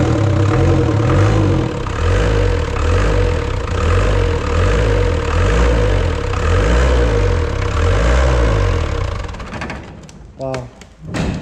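Series 3 Land Rover engine running steadily after a barn-find first start in 19 years, a loud rhythmic low idle throbbing throughout, with voices briefly heard near the end as it fades.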